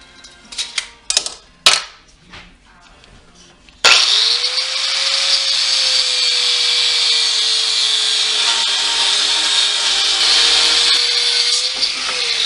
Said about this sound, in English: we're going to cut the head off this roof bolt